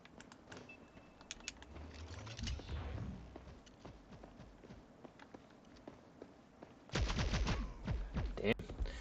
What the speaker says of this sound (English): See, the pistol fired so fast right there.